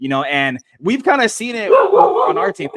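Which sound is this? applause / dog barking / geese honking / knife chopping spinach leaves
dog barking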